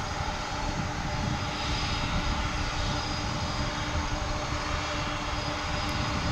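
A jet airliner takes off at DFW airport, a steady, loud engine roar sustained throughout without pause.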